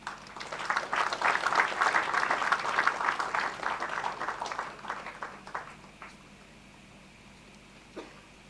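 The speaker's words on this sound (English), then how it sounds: "Kindly welcome them with a huge round of applause." Conference attendees at a philosophy event give a loud round of applause that swells, then fades away over a few seconds into near quiet. A lone soft knock follows.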